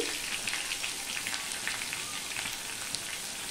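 Potatoes with salt, cumin and fenugreek seeds fry in a pan, giving a steady, close, even sizzle from start to finish.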